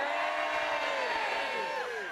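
A concert crowd at an outdoor folk festival cheers and whoops loudly, a sustained wash of voices at moderate distance with a few rising individual whoops near the end.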